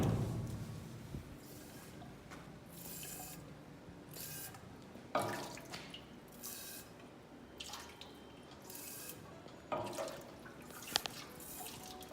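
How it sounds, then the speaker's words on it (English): Water runs and splashes while a chemical container is rinsed out at a pole treatment plant, a steady close wash with intermittent gurgles and sloshing surges. "We can just rinse this out."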